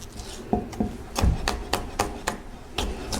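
A chef's knife cuts through a tough bell pepper on a board, giving a series of sharp, close knocks and crisp crunches at an uneven, deliberate pace.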